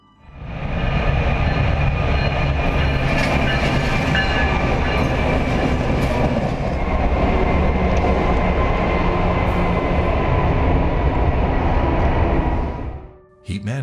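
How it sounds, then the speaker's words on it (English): A train roars past at very close range, a loud, sustained rush of wheels and rail noise that holds steady for most of the stretch before cutting off abruptly at the end. "the train blazes by with only inches to spare"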